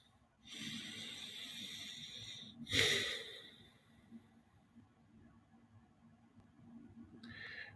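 A single deep breath drawn in and let out slowly at close range during a quiet prayer, a long airy inhale followed by a breathy exhale, with a faint second breath near the end and no talking.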